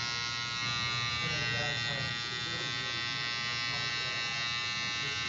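Electric hair trimmer buzzing steadily and close while breaking up a line during a live fade haircut, a constant hum with faint voices murmuring underneath.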